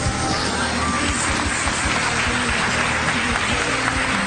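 Church congregation applauding together in a dense, loud, continuous burst of clapping, with crowd noise and voices mixed in throughout.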